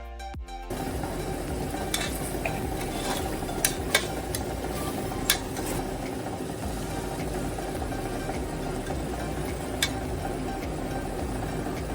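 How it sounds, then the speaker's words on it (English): Turmeric and chili powder masala frying on high heat in a pot, with a steady crackling sizzle and occasional sharp scrapes and clinks from stirring throughout. "Continue to stir so that the masalas are cooked evenly."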